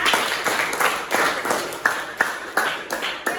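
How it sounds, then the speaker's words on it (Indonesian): A classroom group claps together in a biology lesson, steady rhythmic applause with sharp individual claps repeating a few times a second, fairly close and with no talking. "Mari kita beri aplaus untuk kita semua."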